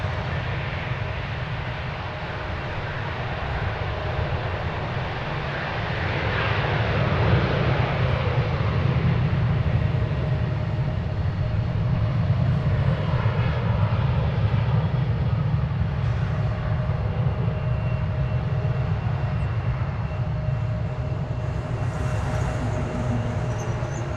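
American Airlines jet taking off from runway 36 right at DFW Airport, a steady broad distant engine roar that swells slightly and holds throughout, with no talk.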